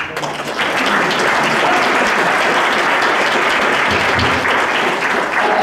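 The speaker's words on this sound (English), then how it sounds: "thank you all once again for that nice applause." Sustained applause from the audience at a membership meeting, a thick, even roar of many hands clapping close by that holds steady for several seconds, with a brief word spoken at the start.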